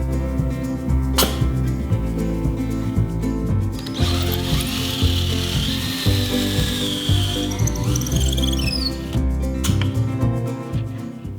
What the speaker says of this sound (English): next I'll drill a few pocket holes